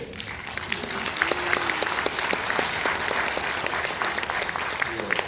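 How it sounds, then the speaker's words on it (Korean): Audience applause during a talk with the Suwon mayor: dense, sustained clapping from a crowd, with a voice briefly audible underneath near the start. "우리 시민들은 이 정도로 그 의식이 있고 박수 칠 때를 정확히 아시잖아요"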